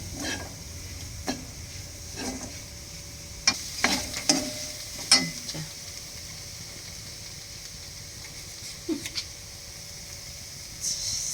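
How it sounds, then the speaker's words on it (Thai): Curry paste being stir-fried with boiled, cleaned pork skin in a pan for a Thai cassia-leaf curry, heard as soft scraping stirs and a quiet sizzle with a few sharper clinks of the utensil against the pan. "หลังจากเราต้มหนังเสร็จละล้างทำความสะอาด จะเอาเครื่องแกงมา มาขัวใส่กับหนังจ้ะ"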